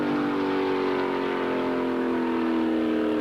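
Drag race cars at the 1976 NHRA Gatornationals launching off the line, a loud continuous engine roar with strong steady tones throughout, no talk.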